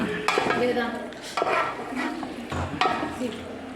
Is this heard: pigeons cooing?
no